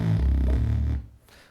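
Warm, buzzy synth bass patch holds one sustained low note for about a second, then cuts off and leaves a faint tail.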